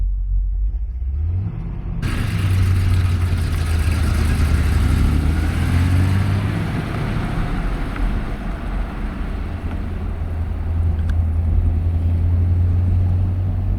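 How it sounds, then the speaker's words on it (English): A 1971 Chevrolet Corvette LT-1 Coupe engine starts up and settles into a deep, loud exhaust rumble while driving, a steady low drone that holds throughout. "Sounds fantastic, has the correct kind of exhaust."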